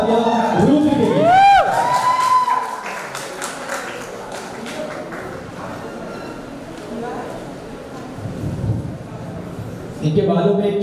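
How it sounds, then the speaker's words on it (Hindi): Crowd cheering and clapping for Rudra at a 2021 talent hunt award show at Taraji Resort in Ayodhya, loud at first and then settling into a steady wash of noise. Voices and shouts rise over it, with a louder burst near the end. "वो जोरदार तालियां रुद्र के लिए"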